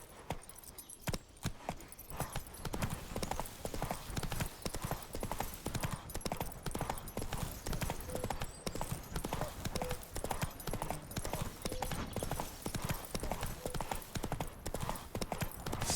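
Geralt's horse Roach trotting in The Witcher 3, a steady, fast clip-clop of hooves running continuously and loud throughout, with faint jingling of tack and no talk.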